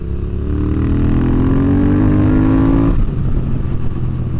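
A motorcycle engine revs up while being ridden, a loud close rising drone that climbs in pitch for a few seconds and then drops back to a lower steady hum.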